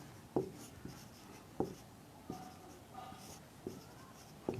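Chalk or pen writing during a Hindi chemistry lesson on solutions and reverse osmosis, heard as sparse, separate taps and short strokes at intervals, fairly faint in a quiet room with no talking.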